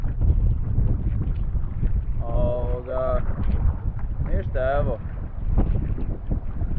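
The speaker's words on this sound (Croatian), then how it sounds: "Vjetar i valovi u leđa," Strong wind buffets the microphone and waves wash around a sea kayak in open water, a continuous close rush with someone speaking briefly over it.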